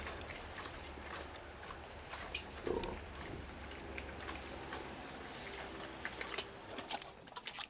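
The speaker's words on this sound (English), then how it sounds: "Here's a big bristly pig enjoying a little bit of the sunshine." A big bristly pig on a snowy farm at Beamish Museum gives low, faint grunts, heard against steady outdoor background noise with a few sharper sounds near the end.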